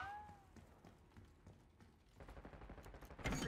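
Black Ops 6 gunfire: bursts of automatic shots crackle faintly in the distance, growing denser and louder near the end, with no one talking.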